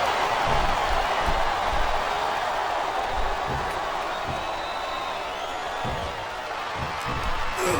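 A video-game wrestling arena crowd in WWE SmackDown vs Raw 2007 roars continuously with cheers and jeers, a dense, steady wash of noise with occasional thumps.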